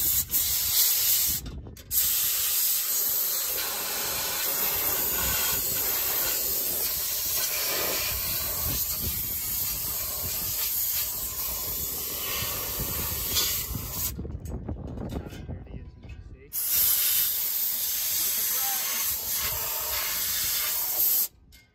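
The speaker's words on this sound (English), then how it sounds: "Getting the air compressor with some air now." Air compressor blowing pressurised air through a clogged Case IH tractor radiator, a loud sustained hissing rush broken by a few short pauses, alone without talk.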